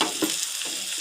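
Ginger garlic paste frying and being stirred in a pan for Bombay chutney, a steady hiss of sizzling with a few soft scraping strokes of a spoon, close and continuous for about a second.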